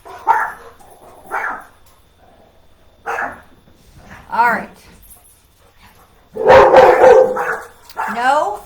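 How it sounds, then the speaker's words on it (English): Dogs at home bark in several short sharp bursts while the mail arrives, then give a louder, longer run of barks and whines near the end, with someone speaking briefly. "My dogs are going to lose their minds."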